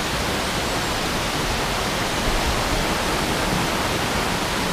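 Ilijan waterfall on the Maulat River roars as a dense, steady rush of falling water, loud and unbroken throughout.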